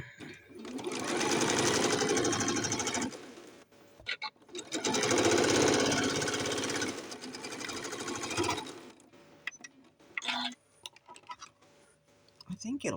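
A sewing machine stitches a doll-sized two-color pleated skirt in two long, steady runs of rapid mechanical whirring, each a few seconds, separated by brief pauses with scattered clicks and handling noises.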